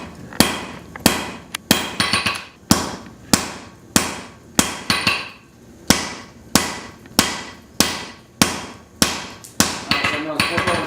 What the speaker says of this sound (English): I got my rounding hammer now. I use the round side